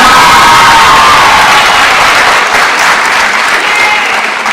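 A graduation crowd at an 8th grade ceremony breaks into loud, dense clapping with cheers and children's shouts mixed in, sustained and close throughout.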